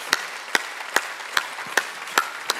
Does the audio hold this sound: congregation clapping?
yes